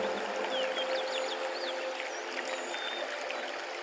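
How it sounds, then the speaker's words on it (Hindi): Calm water flows and trickles softly and continuously at a gentle distance, with faint bird chirps above it in a peaceful outdoor setting. "ठंडी ठंडी हवा, पानी की शांत आवाज"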